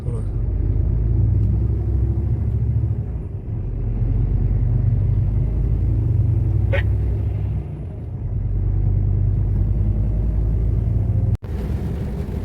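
Car driving along a road with a steady loud rumble of engine and tyres throughout, the level dipping briefly twice, while a person talks inside.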